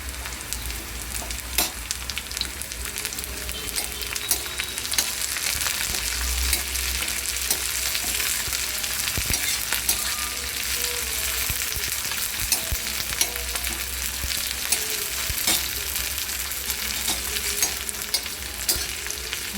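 Cumin seeds and cut green chillies frying in a pan, with a loud continuous sizzle and frequent scraping stirs and clicks close up, with no talking.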